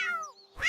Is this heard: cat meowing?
yes